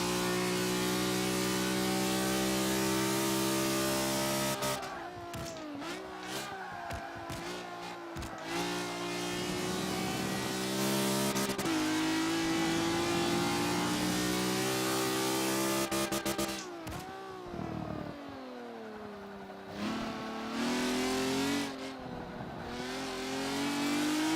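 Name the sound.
car engine accelerating and revving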